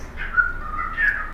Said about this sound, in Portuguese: Tem uma calopsita aqui de baixo.